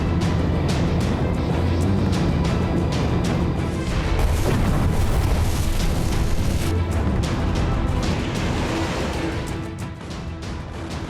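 A blast in Beirut: a dense, loud, rumbling roar with heavy low boom, crackling bursts and sustained noise that slowly fades toward the end, with no speech.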